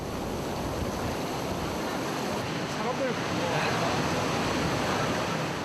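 Surf washes continuously onto the sand at Haeundae beach, a broad steady roar of waves with wind buffeting the microphone throughout.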